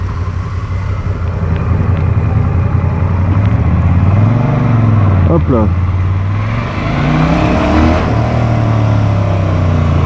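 Moto Guzzi 1400 Audace Carbon motorcycle (2019) engine rumbling close and loud on a test ride, swelling as it accelerates and easing off, with a rider briefly speaking.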